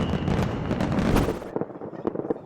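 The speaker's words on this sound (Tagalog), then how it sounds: "Nagpaliwanag naman sa London ang makulay na fireworks show kasunod ng bell ring mula sa Big Ben." Fireworks burst over London in a rapid cluster of loud cracks and booms that crowd together, then thin out into scattered pops echoing in the distance.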